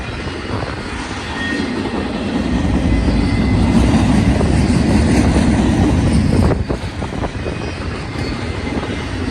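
A long BNSF westbound intermodal Z freight train of about 100 cars passes on the Cajon subdivision in Southern California, a steady loud rumble and roar swelling and holding, with wheel clatter and a brief dip near the end.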